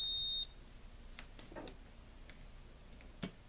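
A multimeter set to continuity gives a short high beep at the start while checking an isolated Dell PS-2521-1D server power supply, followed by quiet ticks and handling noise and one brief sharp click near the end.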